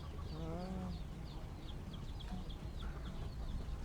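Roosters and chickens at a village poultry market, with scattered clucks and short bird calls repeating across the stretch over steady crowd murmur and low background bustle.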